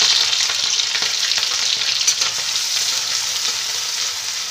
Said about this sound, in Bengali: পেঁয়াজটাকে একটু ভেজে নেব লাল করে